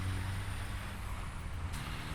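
Truck engine rumbling steadily in the Satisfactory video game, a low continuous drone with a brief air-brake-like hiss near the end and no talking.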